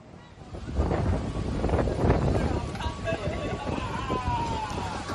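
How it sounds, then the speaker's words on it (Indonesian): Strong wind with rain sweeping through an outdoor sport climbing venue at Harapan Bangsa Stadium complex, a loud, continuous gusty roar with rustling and clatter, under a reporter's voice. "Angin kencang disertai hujan menerjang arena venue Panjat Tebing yang berada di Kompleks Stadion Harapan Bangsa."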